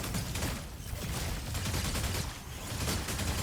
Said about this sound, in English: He's just firing missiles.